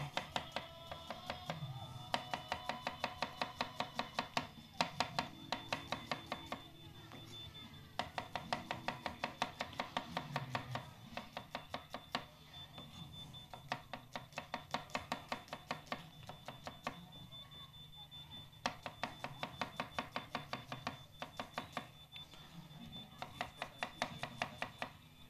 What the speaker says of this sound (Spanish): Picaríamos la cebolla en juliana.